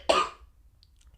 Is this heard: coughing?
yes